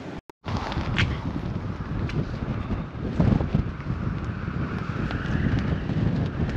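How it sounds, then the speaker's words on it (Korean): Steady wind roars across the microphone, rumbling and buffeting continuously with no voices, briefly cutting out near the start before resuming. "바람 소리 들리죠?"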